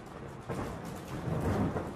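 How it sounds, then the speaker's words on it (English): Thunderstorm on a night of heavy rain, a continuous rumbling roar with a swelling burst of thunder midway, broad and steady with no voices. "Tonight there is a terrible storm,"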